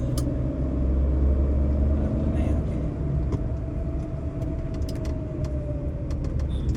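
A car drives along a road at night with a steady low engine and road rumble, a continuous hum heard from inside the vehicle, and faint clicks and ticks scattered over it.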